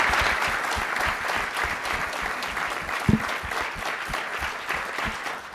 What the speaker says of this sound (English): let's give a panel a round of applause